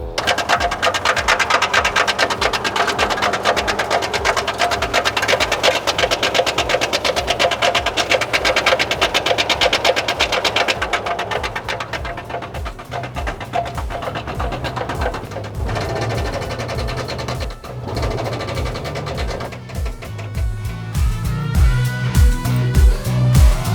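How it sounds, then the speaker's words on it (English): An engine runs steadily with a fast, rhythmic rod knock from inside, loud and close, its pace shifting slightly partway through. "it definitely sounds like it's something from inside the motor. Rod knocking or something like that"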